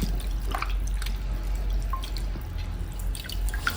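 Coriander leaves are washed in water, with irregular small drips and splashes over a low background rumble, close and fairly quiet, no talk.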